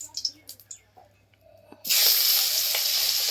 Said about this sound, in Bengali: মাছগুলো ভেজে নিচ্ছে। কড়াতে এবার তেল দিয়ে দিল।